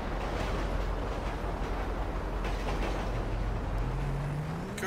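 A train rolls past in the video game GTA V with the LSPDFR police mod, a steady loud rumble of rail wagons throughout with a rising horn-like tone toward the end; no talking.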